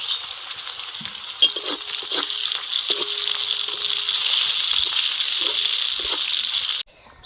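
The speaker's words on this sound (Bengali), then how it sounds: "পেঁয়াজটা একটু লাল লাল করে ভেজে নেবো" Chopped onions with a little salt frying in oil in a pan, a steady close sizzle with occasional light stirring clicks, no voices, ending in a sudden cut.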